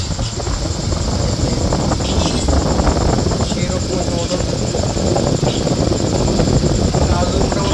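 A 775 high-speed electric motor spins loud and steady, a continuous whirring drone with a high whine on top, while a voice talks excitedly over it.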